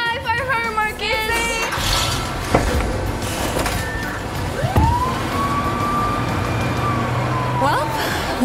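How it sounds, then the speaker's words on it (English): A fire engine siren in a LEGO City animation wails, rises and holds steady over busy, noisy traffic and background activity. "that siren means I've got to go"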